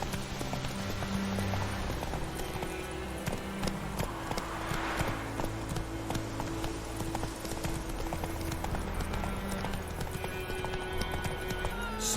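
Horse hooves galloping in The Witcher 3 video game, a steady rapid clip-clop running throughout, close and loud over a continuous bed of game music and ambience.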